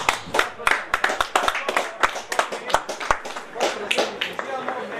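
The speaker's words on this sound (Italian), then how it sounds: "Un applauso per la giornata e per i giocatori in campo" Applause at an amateur football match of Atletico Lauria in Italy; scattered, sharp handclaps from a small group, loud and uneven in rhythm, mixed with voices talking and calling out.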